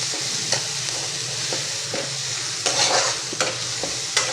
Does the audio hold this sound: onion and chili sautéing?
yes